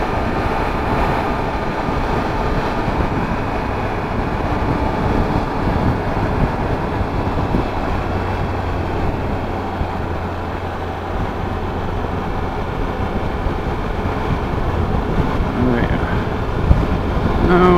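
A 2015 Triumph Tiger Explorer 1200 motorcycle being ridden, a steady loud engine drone mixed with heavy wind rush over the microphone, continuous throughout.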